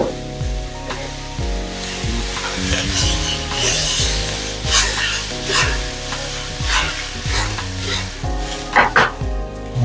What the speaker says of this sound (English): I'm going to go ahead and put this broccoli in here with it.